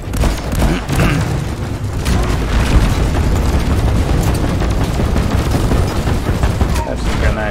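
Grenades blow up in Deep Rock Galactic, heavy booms and continuous chaotic gunfire rolling loudly throughout, with excited voices talking over the din.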